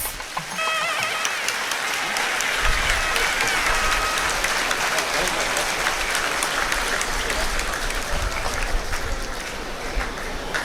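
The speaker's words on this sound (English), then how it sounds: "Everyone, please give a big round of applause." A large audience at a law school inaugural event gives sustained applause, a thick, even roar of clapping that stays steady from start to finish.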